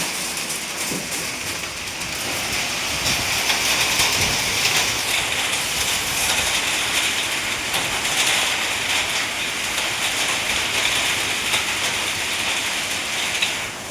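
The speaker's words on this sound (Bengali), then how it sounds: "এত বৃষ্টি জীবনে আমি দেখিনি" Heavy rain with hail pours down in Bangalore in a dense, steady hiss, loud and continuous throughout, with no voices.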